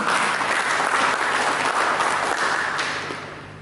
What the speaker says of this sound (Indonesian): Berikan tepuk tangan bagi ini.